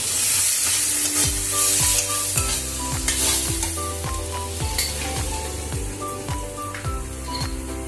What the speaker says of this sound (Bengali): বাটিতে ধুয়ে অল্প জল দিয়ে দিলাম দিয়ে এটাকে ভালো করে নাড়তে হবে